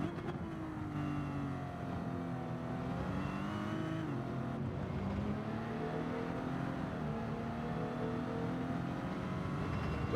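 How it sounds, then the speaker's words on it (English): A 1954 Jaguar D-Type straight-six racing car in Gran Turismo 7 at Le Mans, its engine droning steadily with smooth pitch changes as it revs and shifts, moderately loud and continuous. "To be able to hear that over the straight 6 engine of the"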